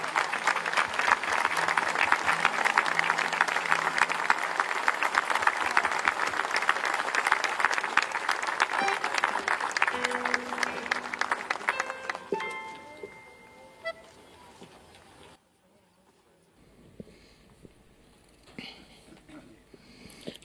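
Crowd applause at an outdoor Catholic beatification ceremony in a park, loud sustained clapping under a voice over a PA for about twelve seconds, then fading to quieter scattered sounds and near silence.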